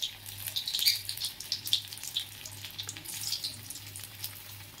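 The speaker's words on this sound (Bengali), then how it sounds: "ছাঁকা তেলে, সর্ষের তেলে ভেজে নেব" Breadcrumb-coated egg devil fries in mustard oil, giving a steady close sizzle and crackle with scattered pops and no voices.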